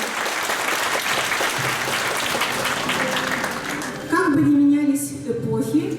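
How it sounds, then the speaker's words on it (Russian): Audience applause follows a children's folk dance ensemble's performance at a city library's centenary celebration in a House of Culture. Dense, sustained clapping fills the hall for about four seconds, then gives way to music. "Аплодисменты нашим юным читателям."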